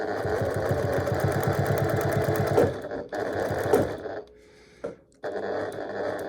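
A sewing machine runs in fast, steady bursts while stitching a square pot holder, stopping briefly twice before a short final run; the motor's rapid needle rhythm sounds close and loud.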